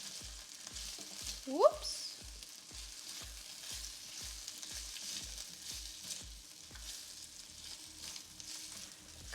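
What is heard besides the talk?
potatoes frying in oil and being stirred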